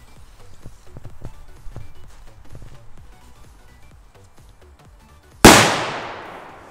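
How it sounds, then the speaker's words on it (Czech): A Dumbum Mini firecracker, a small 0.41-gram petard, goes off with a single sharp, loud, close bang and a quickly fading echo. Several seconds of soft scattered clicks and rustling come before it. "Takže poslední petarda, Dumbum Mini."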